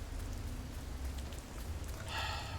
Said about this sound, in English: the rain and storm in this is like really soothing